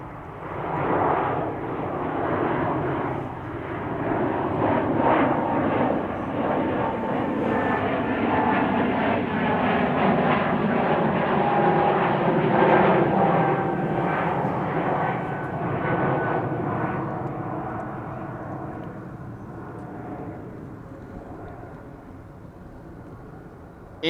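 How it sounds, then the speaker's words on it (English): An ITA Bombardier C-Series jet passes with a swelling engine roar and whine, its sweeping tones rising and falling as it draws near and moves off over roughly twenty seconds. "Here is ITA. Bombardier C-Series. What a beautiful machine."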